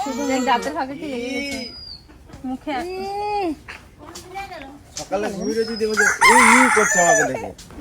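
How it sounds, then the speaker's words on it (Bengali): Chickens cluck and a rooster crows repeatedly, close and fairly loud, with a voice speaking over the birds throughout. "আমাদের বাড়িটা কি মুরগির বাড়ি হয়ে গেছে চারিদিকে শুধু মুরগি আর মুরগি"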